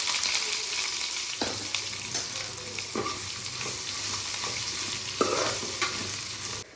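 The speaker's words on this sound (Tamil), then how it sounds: "வெங்காயம் நல்லா வதங்கிருச்சு" Long-sliced onions with bay leaf and curry leaves sauté in a pan for a Kumbakonam-style kadappa, a steady frying sizzle broken by several scraping stirs of a spoon, close and continuous with no talking.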